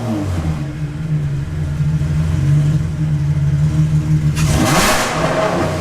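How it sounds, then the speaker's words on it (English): A cammed Infiniti G35 engine, freshly started after a starter swap, idles with a lumpy loud rumble, then blips sharply in a quick rev near the end, close and alone. "Let's go ahead and give it a few revs."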